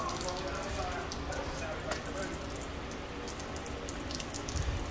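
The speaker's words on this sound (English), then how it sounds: "Give it a good squeeze. Dip it in the soapy water." Wash mitt squeezed and dipped into a bucket of soapy car-wash water, a steady close sloshing and dripping of water throughout with faint voice underneath.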